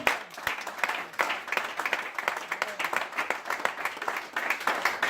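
A church congregation claps in a lively, uneven burst of applause with scattered cheers and raised voices praising God, sustained and moderately loud.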